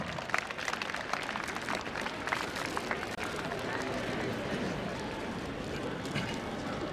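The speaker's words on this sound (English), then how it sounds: "Please give them a huge round of applause." Audience at a school annual function in Barabanki clapping steadily for guests, a dense spread of applause lasting several seconds. A voice talks over it.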